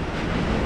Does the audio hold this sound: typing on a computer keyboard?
no